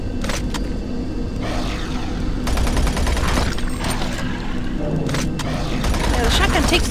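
A shotgun fires repeatedly in the video game Doom 3, with several loud bursts over a constant rumbling background while a voice talks.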